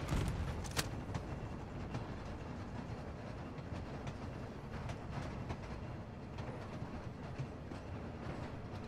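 A tram rolls along its track in the Warzone 2.0 video game, a steady low rumble with rhythmic rail clatter sustained throughout at moderate level, a few brief sharper clicks over it.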